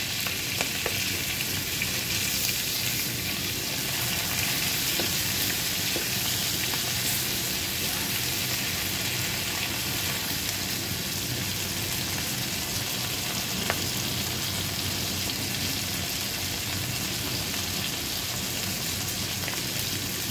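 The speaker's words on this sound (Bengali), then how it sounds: "মাছগুলো আমার ভাজা হয়ে গিয়েছে" Prawns fry in a pan with a steady, dense sizzle that runs unbroken for about twenty seconds, close and fairly loud, with a few faint clicks of stirring.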